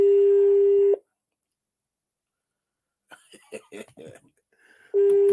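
A telephone rings in two electronic bursts separated by a pause, with a faint voice murmuring briefly in between.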